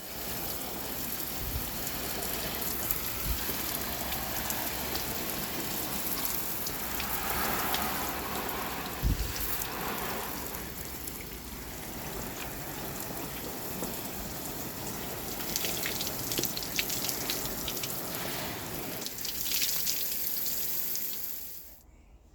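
Water running and splashing over an Austin Princess car during a wash outside the front of a house, a continuous hissing spray that swells and eases, with a brief knock partway through and no voices.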